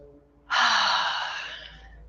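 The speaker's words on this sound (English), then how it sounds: "we'll take a full breath in, full breath out, and inhale to ease out" A single deep breath taken during a seated relaxation breathing exercise: one long, close, breathy exhale that swells suddenly and then fades slowly over about a second and a half, with no other sound around it.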